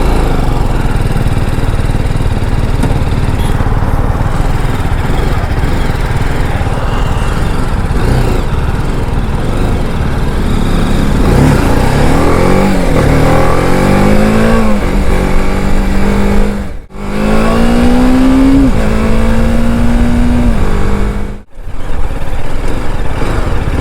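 A BMW GS motorcycle on a test ride, its engine droning steadily under heavy wind noise, then revving up through rising pitches with two short dips as gears change.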